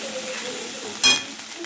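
Spice tempering (phodni) sizzles in hot oil: a steady, close crackling hiss that swells into a brief louder burst near the end.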